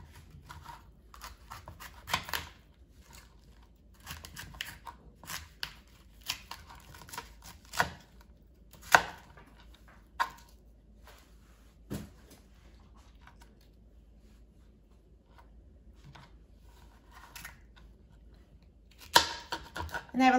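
Cauliflower is cut into pieces with a knife, producing sparse, quiet crisp snaps and crunchy cuts scattered irregularly across a near-silent kitchen background.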